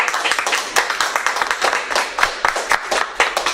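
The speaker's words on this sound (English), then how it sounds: "let's give her another round of applause" A school audience at a Woodlawn Middle School ceremony gives a teacher a round of applause, close and lively, with crisp, uneven handclaps packed together in a busy burst lasting a few seconds.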